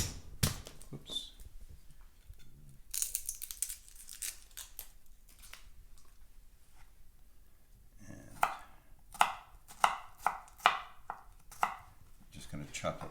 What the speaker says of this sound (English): Going to chop up some garlic,